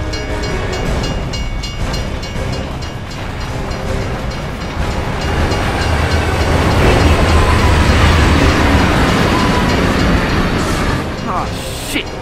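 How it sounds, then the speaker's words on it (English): Train bearing down along the tracks inside a tunnel in the video game Gears of War 3, a loud continuous rumbling roar with clattering that builds over several seconds and fills the scene. "it's a bloody train coming the other way! Everybody off the tracks!"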